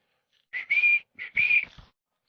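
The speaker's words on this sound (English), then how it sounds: "2 whistles to turn him." A sharp whistle gives two short blasts, each split into quick bursts, signaling a pointer bird dog in the field; clear and alone with silence around it.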